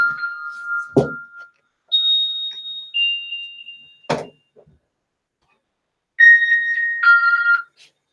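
Phone alarm going off in a quiet room, a series of short, bright electronic beeps and tones in separate bursts with gaps, mixed with a couple of sharp thumps.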